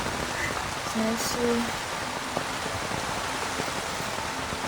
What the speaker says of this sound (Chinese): 这个雨蛮大的